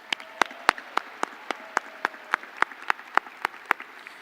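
Audience applause at a Washington State University commencement ceremony for returning graduates: a thin, fairly steady run of distinct claps with little crowd density, heard clearly without talk.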